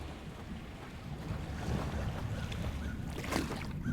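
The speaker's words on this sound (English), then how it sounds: "Water sounds terrifying." Water in a video game, with a steady rushing wash of waves and wind-like noise that builds slightly louder midway and continues evenly to the end, with no talking.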